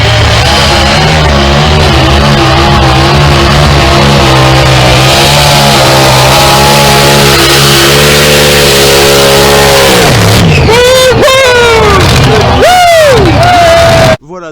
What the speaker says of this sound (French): c'est ça, les tracteurs pulling de Bernay